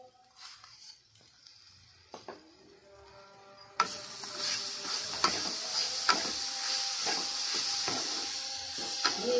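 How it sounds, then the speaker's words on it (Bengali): Grated coconut and date palm jaggery being stirred in a wok: a steady sizzling hiss with repeated scraping strokes of the spatula, close and moderate, following a few quieter knocks at the start. "এইভাবে ক্রমাগত নাড়াচাড়া করতে হবে।"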